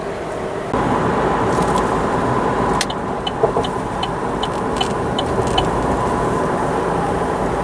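A Chevrolet Trailblazer 2.5 LTZ cruising at 120 km/h on a test drive after a gearbox overhaul, with steady engine and road noise filling the cabin and a few light clicks and taps inside.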